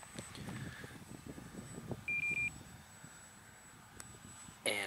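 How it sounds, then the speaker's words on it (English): An RC transmitter radio at a model airplane flying session gives a quick triple timer beep, moderately loud over outdoor wind and distant aircraft noise. "There's a random beep, and no, that does not mean that his signal's running low. It's just a timer."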